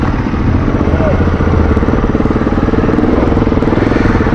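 A trail motorcycle fitted with an Akrapovic exhaust idles and burbles nearby in a rapid, steady pulsing throb, with people talking over it.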